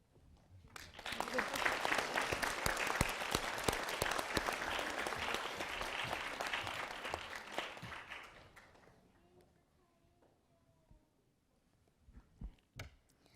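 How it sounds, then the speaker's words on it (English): An audience at an evening event with First Lady Barbara Bush breaks into loud, sustained applause that swells over several seconds, holds, then gradually fades away, leaving a few scattered claps and quiet room noise. "Applause erupted."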